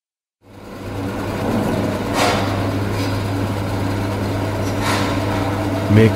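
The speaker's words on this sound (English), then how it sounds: "Mixer truck." A concrete mixer truck's engine runs at a steady idle, a continuous low rumble with a faint hum throughout, close and even in level after a brief silent start.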